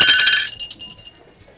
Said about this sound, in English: if you just drop a plate on the floor and it breaks